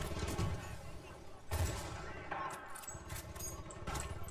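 Window-mounted machine gun fire in the game Battlefield Bad Company 2, faint distant bursts and scattered shots rattling amid ongoing combat noise, with a voice talking over it.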